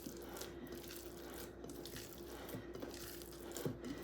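Water runs steadily from a kitchen tap while a hand is washed, a soft continuous splash at low level with a few faint knocks and clinks near the sink.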